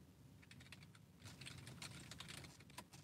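Fingers type on a computer keyboard in quick, irregular bursts of soft clicks, faint and close, with a brief pause before a denser run of keystrokes.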